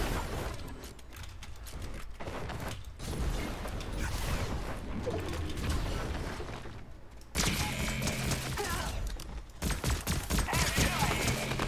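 Dense hip-fire gunshots from a shooter video game during an Iron Man update play on as a continuous rattling barrage, loud and close, with mechanical clatter and a sharper burst near the end.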